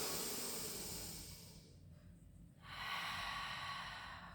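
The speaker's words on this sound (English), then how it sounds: "Big deep breaths." Slow, deep breathing in a pilates class, with a long airy exhale, a brief quiet pause, then another breath, soft and close with no talking.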